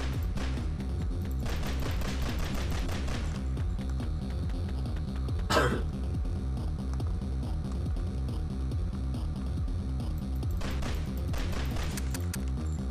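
Bursts of rapid automatic gunfire from video game guns rattle in clusters, set against a humming game soundtrack, with one sharp, louder shot standing out in the middle.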